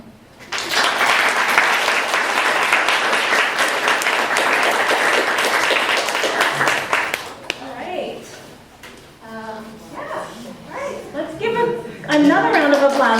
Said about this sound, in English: Another round of applause for all of these amazing presenters.